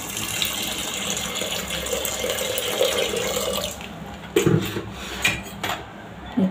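Water is poured from a vessel into a pot of chickpeas, potato and salt for chole, producing a steady close gushing stream that stops midway, followed by a few knocks and clinks.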